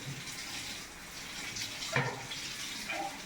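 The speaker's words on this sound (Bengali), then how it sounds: "তো আমগুলিকে আগে খুব ভালোভাবে ধুয়ে নিতে হবে। তো আমি আবার ধুয়ে নিচ্ছি।" Raw green mangoes rinsed under a running kitchen tap, a steady broadband wash of flowing water splashing for several seconds with a brief clatter of handling near the middle, close and fairly quiet.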